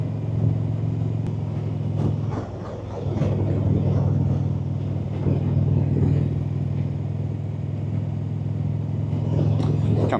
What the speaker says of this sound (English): would you prefer for me to shut up so you can hear the engine